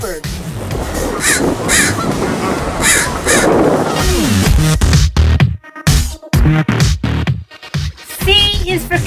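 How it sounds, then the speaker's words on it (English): A blackbird calls in a run of loud, harsh, close notes, with a voice speaking alongside. "B is for Blackbird."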